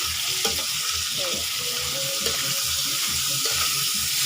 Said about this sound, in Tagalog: Ibalot natin yung amoy ng mga luya, bawang, at sibuyas sa ating mga karne